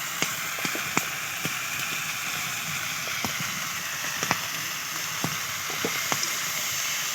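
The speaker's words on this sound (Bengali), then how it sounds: "এবার এটা দিয়ে কষাতে থাকবে ফুলকপিগুলো দিয়ে দিয়ে কষাতে থাকবে" Cauliflower and spices fry in hot oil for a Bengali potato and pangas fish curry, giving a steady, close sizzle broken by scattered sharp pops and light utensil clicks.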